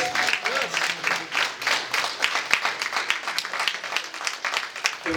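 Banquet guests clapping for an honored martial arts master. Crisp, fairly close applause from a modest crowd, with the separate claps easy to pick out, runs steadily for about five seconds under a few faint voices.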